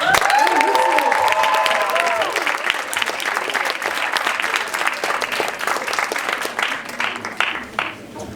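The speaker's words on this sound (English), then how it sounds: "Give a big applause for Muqsit" Loud applause from the audience at a TEDx talk, with a voice over the start before the dense clapping carries on alone and tapers slightly near the end.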